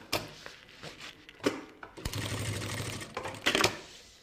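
Sewing machine stitching the finishing seam on a thermal box bag, a few short clicks and taps followed by a rapid mechanical run of stitches, then more brief bursts, close and fairly quiet.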